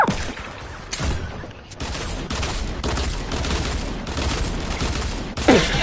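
Rapid bursts of gunfire from a video game shooter crackle almost continuously, dense and loud, with short pauses between volleys and no talk over them.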